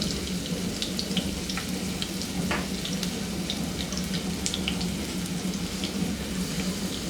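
Cashews frying in oil for coconut rice: an even, continuous bubbling hiss with faint scattered crackles, steady throughout.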